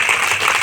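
A crowd at a Gayatri Pariwar motivational gathering claps harder and faster, a brief burst of dense, energetic applause.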